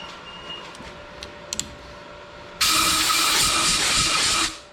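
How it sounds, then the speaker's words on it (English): Compressed air blasts metal chips out of an old driveshaft output shaft in a workshop, a loud sudden hiss that starts abruptly after quiet and lasts about two seconds before cutting off. "Blow them chips out of it."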